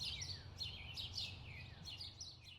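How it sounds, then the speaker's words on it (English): Small birds chirp and twitter in quick, high repeated calls over a low outdoor rumble, fairly faint and distant. "just enjoy being out here in nature and listen to the birds"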